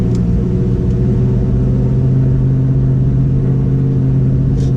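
Cammed Chevrolet Camaro SS engine rumbling steadily while driving, a loud, close, lumpy idle-like drone with little variation throughout.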